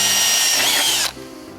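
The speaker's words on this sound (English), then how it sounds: "I'm going to drill a 1/8-inch pilot hole for the screws" A power drill runs at high speed, boring a 1/8-inch pilot hole for screws while a storm door is being installed. The loud whine holds, then cuts off abruptly and slows to a quieter wind-down.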